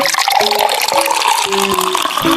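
Water pours steadily with a rushing, splashing sound, fairly loud and close, while a simple melody plays in the background.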